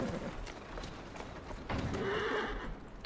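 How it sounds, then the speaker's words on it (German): In Assassin's Creed Syndicate, a horse pulls a carriage through the street with steady clip-clopping hooves, wheels rumbling and a whinny near the end, all in busy city ambience. "Ah, das ist schön, dass ich Kutsche fahren kann."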